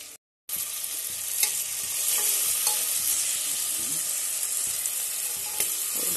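Peas sizzle in a hot frying pan after a short silence, a loud, steady hiss from close by with occasional light stirring clicks and pops.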